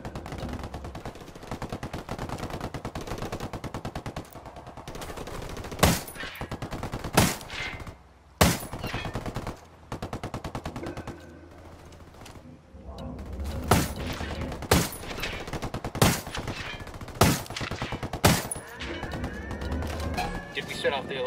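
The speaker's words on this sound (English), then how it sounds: "We got Unidad and Rebels throwing lead." Gunfire rattles between Unidad soldiers and rebels in Ghost Recon Wildlands, with sustained automatic bursts and sharp single shots, some close and loud, others more distant, under occasional voices.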